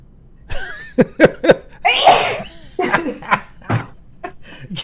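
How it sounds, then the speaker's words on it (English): A big, explosive sneeze bursts out close up, surrounded by excited laughter and chatter from a few people. "That was the greatest sneeze in the history of the world."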